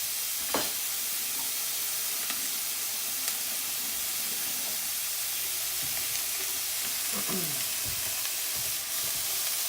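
Garlic and vegetables sauté in a pan for tacos, a steady soft sizzle with occasional stirring scrapes and clinks, fairly close and continuous with no talk.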